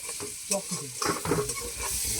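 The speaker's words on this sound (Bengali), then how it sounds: "পেঁয়াজটা সেই ভাজা হচ্ছে" Onion fries in a pan while it is stirred, a close, continuous sizzle broken by several scraping stirs. Nobody speaks.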